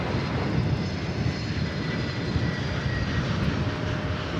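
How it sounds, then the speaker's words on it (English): A UPS cargo plane approaches to land at DFW Airport, its engines a steady, loud, broadband roar that holds throughout with no talk. "We've got a UPS flight coming in over on the east side."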